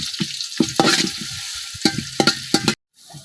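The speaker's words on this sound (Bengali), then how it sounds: "পেঁয়াজটা কিছুক্ষণ ভাজিয়ে নিলাম" Onion frying in hot oil with bay leaf and cumin, a close sizzle broken by repeated scraping stir strokes in an irregular rhythm, ending in a sudden cutoff.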